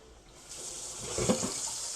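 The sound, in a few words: cold tap water running into kitchen sink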